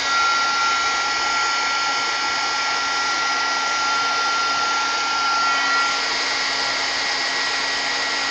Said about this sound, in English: Take out the heat gun. Heat this real quick.